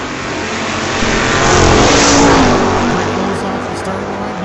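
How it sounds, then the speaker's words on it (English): Two drag race cars at a sunset showdown event roar down the strip, their engines swelling to a loud peak as they pass close by, then fading, under a dense layer of crowd and track noise. "Going to be a good drag race"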